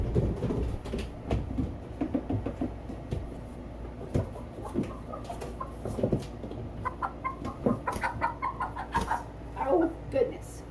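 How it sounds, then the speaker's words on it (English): A Wyandotte hen clucks and murmurs in short, soft bursts close by, under intermittent talking and handling noises. "I will get my Chevrolet Wyandotte out and let you see how pretty she is"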